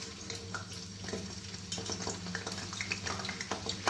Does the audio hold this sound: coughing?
no